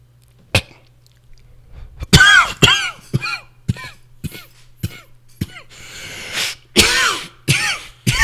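A person coughs repeatedly in a string of sharp, close bursts with short gaps, some harsh and throaty, against quiet surroundings.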